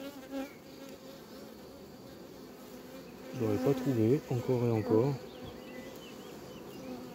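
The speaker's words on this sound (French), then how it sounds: "c'est une abeille avec du pollen" Bee carrying pollen buzzing steadily close by, a continuous thin insect drone running throughout, while a person speaks French for a couple of seconds partway through.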